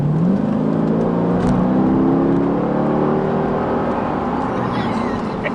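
A 2012 Mercedes SLK55 AMG engine revs loud and close, its pitch climbing steadily as it winds up, then holding a deep throaty drone, with a voice faintly underneath.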